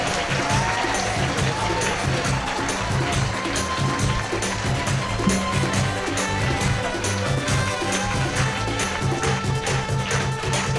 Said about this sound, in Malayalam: കൈയടിച്ച് കർത്താവ് ഹല്ലേലൂയ